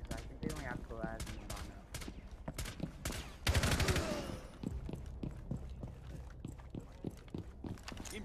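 Gunshots in Rainbow Six Siege crack out as many sharp, rapid reports, some in quick volleys, with a louder, denser burst near the middle.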